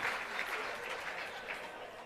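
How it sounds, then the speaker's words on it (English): An audience at a launch event for technology centres of excellence applauds the Limpopo delegation, a dense, even wash of clapping sustained at a moderate level from start to finish. "Let's give a round of applause to Limpopo"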